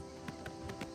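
Horse hooves clopping in the video game Oblivion Remastered while riding, a quick series of soft, faint hoofbeats in a steady galloping rhythm.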